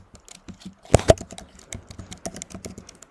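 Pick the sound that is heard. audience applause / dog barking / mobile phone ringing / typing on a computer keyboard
typing on a computer keyboard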